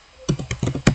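A ping command is typed on a computer keyboard during Debian network configuration, with a short burst of about six close, uneven key clicks and no voice.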